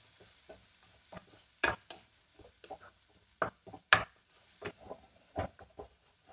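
Ginger garlic paste stirred into tomatoes frying in a pan for a chicken curry, with sharp scraping strokes of a spoon and intermittent taps over a quiet sizzle.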